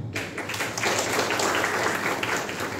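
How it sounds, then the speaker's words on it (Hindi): An audience of engineering college students claps together in a brief, fairly loud round of applause that swells and holds for a few seconds. "उसके लिए तालियां बजाओ"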